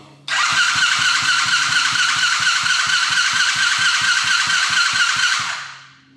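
A Coolster 110cc dirt bike with a gunked-up carburetor cranks on its starter for about five seconds, a loud, close whirring with rapid regular compression pulses, never catching before it winds down.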